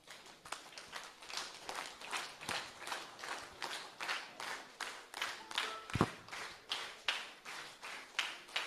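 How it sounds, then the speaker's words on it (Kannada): An audience stands and claps loudly in a steady, fast rhythm of dense hand claps, with music or stray voices faint underneath and no one speaking over it. "ಎಲ್ಲರೂ ಎದ್ದಿದ್ಕೊಂಡು ಜೋರಾಗಿ ಚಪ್ಪಾಳೆ ತಟ್ಟಿ."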